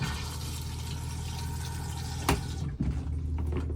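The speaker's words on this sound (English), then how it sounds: "which pumps around your flush fluid around the toilet" Motorhome toilet flush pump circulating flush fluid around the bowl, a steady mechanical whir with rushing liquid, broken by a couple of brief clicks or knocks.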